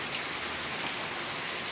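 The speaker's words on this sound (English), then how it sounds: "See the rain coming down real good." Steady heavy rain pours down during a southern thunderstorm, a dense even hiss of drops on surfaces, loud and continuous with no voices.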